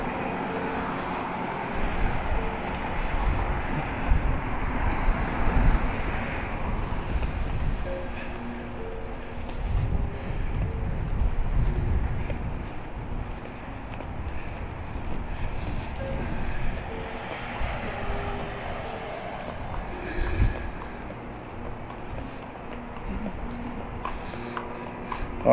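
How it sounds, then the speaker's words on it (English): Steady wind buffets a street corner in downtown Los Angeles, making a continuous rumbling, gusty roar with broadband noise throughout and no clear voices. "It's windy right here a little bit."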